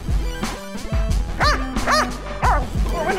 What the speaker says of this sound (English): whenever you bark like this dog